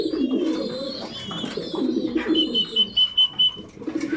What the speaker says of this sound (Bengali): শুধু নর কবুতরগুলা সবগুলা রেস্টে আছে